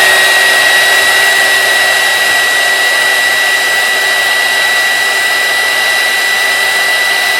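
A heat tool blows loud and steady at close range while shrink plastic is heated, a constant rushing whine with a sustained tone that never lets up.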